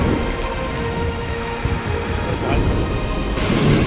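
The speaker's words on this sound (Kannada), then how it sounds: "ರಾಜ್ಯದ ಬಹುತೇಕ ಜಿಲ್ಲೆಗಳಲ್ಲೂ ಬೇಸಿಗೆ ಮಳೆ ಅಬ್ಬರಿಸಿ ಬೊಬ್ಬಿರಿಯುತ್ತಿದೆ." Heavy summer rain pours down in Karnataka in a dense, constant hiss of drops on surfaces, loud and unbroken, with a faint low rumble beneath.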